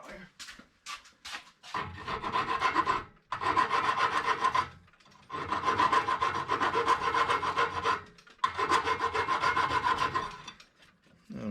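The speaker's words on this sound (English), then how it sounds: "And then I can file the back side of that smooth." Hand file rasping back and forth to smooth the back side of a small metal piece for a magnetic selfie stick, three long bursts of steady, close scraping separated by short pauses, with a few quick strokes at the start.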